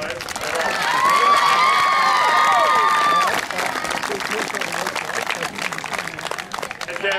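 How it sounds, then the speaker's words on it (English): Spectators at an under-13.5 junior football grand final at Angaston Oval cheer and clap for the Freeling side, loud high-pitched girls' shouts ringing over steady applause before easing into continued clapping and chatter. "that's a round of applause for Freeling, mate"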